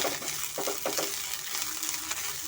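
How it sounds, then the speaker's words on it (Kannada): Mint and coriander leaves frying in oil for a village-style mutton keema ball curry, a steady crackling sizzle with a few sharper pops and stirring scrapes, close and continuous with no talk. "ಪುದೀನ ಮತ್ತು ಕೊತ್ತಂಬರಿನೂ ಅಷ್ಟೇ ಎಣ್ಣೆಯಲ್ಲಿ ಹುರ್ಕೊತಾ ಇದ್ದೀನಿ"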